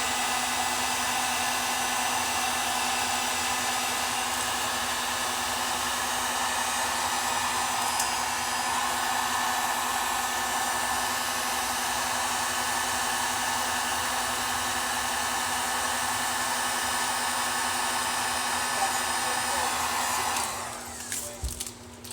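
A heat gun blasts steadily while shrinking heat shrink tubing on car audio wiring, a loud continuous airy roar with a faint hum that holds for about twenty seconds before cutting off near the end.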